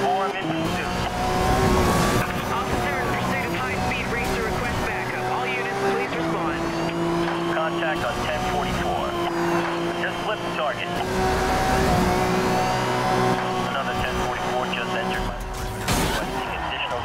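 Police pursuit of racing cars in the video game Need for Speed Rivals: roaring engines rev and shift, tires squeal and cars whoosh past up close, with radio dispatch voices talking over the chase.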